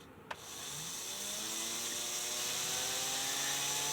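A small HO scale model locomotive runs on freshly lubricated works and cleaned brass wheels, giving a steady high-pitched electric whine. It starts after a brief click and holds at an even, moderately faint level, with no talking.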